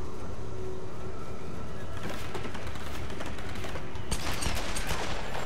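Gunfire in the Tomb Raider video game finale, a dense run of sharp shots and bursts over steady game noise, growing louder and busier toward the end.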